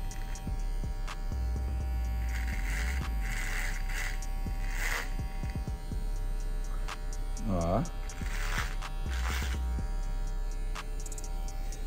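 Electric hair clipper cutting a short low fade, a steady close mains-type buzz held throughout, with brief shifts in pitch as the blade moves and someone speaking faintly at moments.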